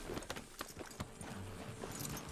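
Faint, irregular hoof clops from a horse in the video game Red Dead Redemption 2, scattered sharp taps over a quiet outdoor ambience.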